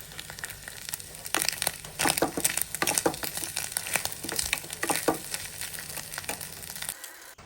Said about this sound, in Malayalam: അപ്പോൾ നാളികേരം അത്യാവശ്യം ചുവന്ന് വറുത്തിട്ടുണ്ട്.